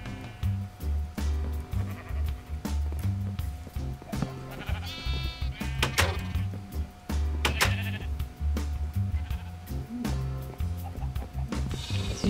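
Sheep in Minecraft bleat repeatedly in wavering, nasal cries, several overlapping calls over a low, steady background hum and music-like tones.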